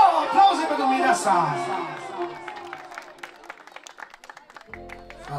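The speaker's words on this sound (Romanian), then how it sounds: "Ia, aplauze pentru mireasa!" Wedding guests applaud the bride at a Romanian wedding: scattered claps and cheers rise out of loud singing and crowd chatter, then thin to crisp individual claps before a short musical tone.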